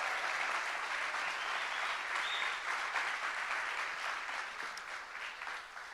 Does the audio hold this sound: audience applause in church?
yes